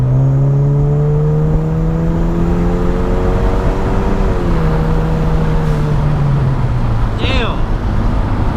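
A Kia car accelerates hard on the road, its engine tone rising steadily, dipping at a gear change and climbing again, loud and close from inside the cabin, with a brief exclamation near the end.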